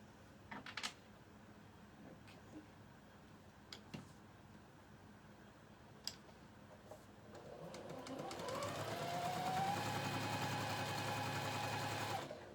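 Domestic sewing machine stitching quilt fabric during a sampler block sew-along, its steady motor hum rising from about eight seconds and running to the end, preceded by scattered light ticks and clicks.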